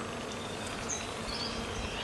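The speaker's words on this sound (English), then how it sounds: "You can probably hear the bees too in the background above me." A steady, faint hum of many bees buzzing in a tree fills the background, continuous and diffuse without pauses, with a few thin high chirps drifting through.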